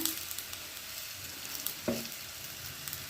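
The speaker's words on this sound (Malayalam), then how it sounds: "എല്ലാ സൈഡും ആവുന്നവരെ ഇങ്ങനെ ഫ്രൈ ചെയ്ത് കൊടുക്കാം" Rava and banana sweets frying in oil in a pan, a steady soft sizzle with a faint clink near the middle, heard alone without talk.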